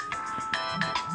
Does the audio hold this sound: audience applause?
no